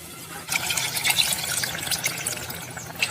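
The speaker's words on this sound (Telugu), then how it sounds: "ముక్కలు మునిగే వరకు నీళ్ళు పోస్తున్నాం కదండి" Water poured into a pot of spicy Telangana-style mutton curry, a steady splashing trickle starting after a brief quiet moment and running continuously at close range, with no talking.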